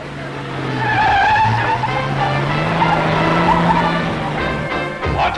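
Stunt sedan engine revving hard with tires skidding and squealing before a jump over a line of parked cars, loud and sustained with a sharp burst near the end and a voice talking faintly.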